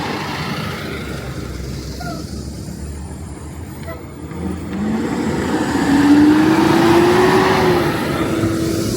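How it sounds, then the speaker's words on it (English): School buses roll past on 108th Street in Queens, a continuous rumble of heavy road traffic that swells louder in the second half, with a rising engine whine as one pulls away; a person talks over it. "those are all the school buses from earlier with all those kids"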